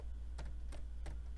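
Typing on a computer keyboard while building a quiz game in Scratch, three soft, separate key clicks spaced apart over a steady low hum.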